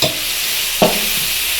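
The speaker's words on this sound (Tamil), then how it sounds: "இஞ்சி பூண்டு பேஸ்ட் சேர்த்து நல்லா வதக்கிக்கலாம்" Ginger garlic paste sautéing in hot oil for mutton kuzhambu, a steady close sizzle with a single brief stir or scrape partway through.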